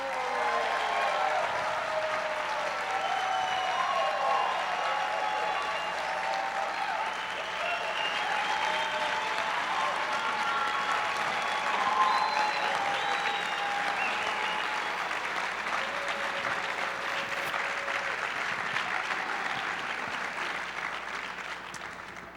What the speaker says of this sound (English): let's have a warm round of applause before libations for Mr.